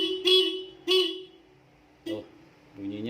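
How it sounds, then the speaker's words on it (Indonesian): Stock original motorcycle horn sounding two short, clear beeps in close succession, followed by someone speaking nearby. "yang bawaan motor, yang originalnya ini bunyinya seperti apa"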